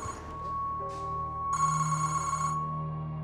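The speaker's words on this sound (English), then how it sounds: "Then the phone rang" A telephone rings indoors in a room reserved by the KGB, giving a steady electronic tone with a brighter burst of ringing midway before it settles back, heard alone and fairly quiet.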